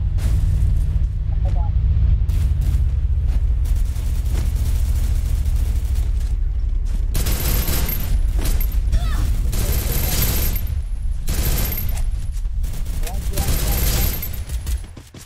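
Heavy bursts of gunfire and booming explosions in a vehicle combat video game, loud and sustained with rapid volleys, mixed with excited voices talking over the action.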